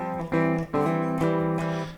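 An electric guitar with humbucker pickups rings out through a Quad Cortex room reverb, three strummed chords in quick succession, each sustaining with a roomy tail, clear and close with no talking.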